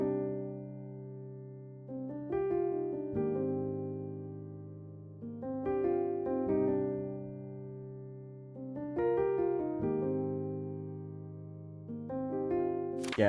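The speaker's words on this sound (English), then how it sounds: "I went into Contact in the Noir Felt bank and I chose the preset Smooth and Deep Felt" A Kontakt Noir felt piano on the Smooth and Deep Felt preset, with color and tonal shift adjusted, plays a soft repeating chord-and-melody pattern, moderately quiet and mellow, with no voices.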